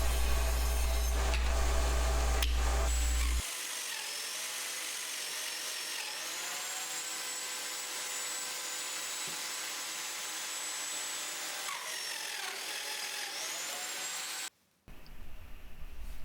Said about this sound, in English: now I'm milling some grooves into the rails that go around the perimeter of the bench